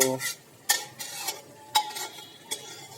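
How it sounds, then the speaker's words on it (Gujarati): A spoon stirs boiled mung and chana dal into a sizzling tempering in a pot, giving scraping clinks and soft wet stirs over a low steady sizzle, close up with no talk. "ચાલો હવે મગની અને ચણાની જે દાળ જે આપણે બાફીને તૈયાર કરેલી છે તે પણ અંદર ઉમેરી દઈએ"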